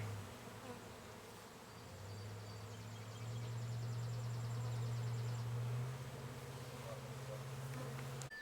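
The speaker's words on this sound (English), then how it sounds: "I believe we got a swarm started here." A honey bee swarm gathering beside a canning shed where a swarm trap with attractant has been set gives a steady, dense, low hum. The buzzing swells a little and stays loud and continuous throughout, with no talking.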